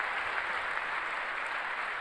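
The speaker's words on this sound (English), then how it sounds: "are people from other countries confused about our idiot clapping constantly?" A crowd at the State of the Union speech applauding, a steady, dense wash of clapping from many people that holds evenly throughout.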